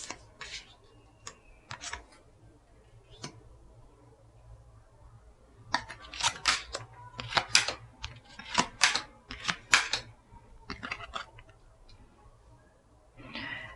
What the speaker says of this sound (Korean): 카드 나열을 좀 해볼게요.